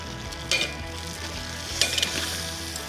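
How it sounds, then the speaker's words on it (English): Fish sizzles steadily in a pan over a fire while being cooked outdoors, with a couple of brief scraping clatters as it is flipped, loud and close with no talking. "My fish has been cooking up for 5 minutes on one side."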